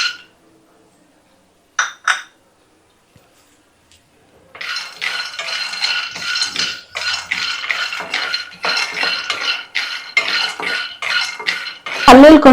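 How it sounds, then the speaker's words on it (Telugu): Raw peanuts are dry-roasted in a hot kadai, scraped and stirred with a metal spatula. The clanks start sparse, then become a busy run of rattling scrapes and clinks, loud and close. "కడాయి కాగిపోయింది, పల్లీలు వేయించుకుందాం ఫస్ట్."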